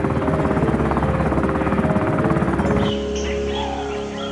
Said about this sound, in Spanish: Con Mulcahy a bordo, el helicóptero despegó.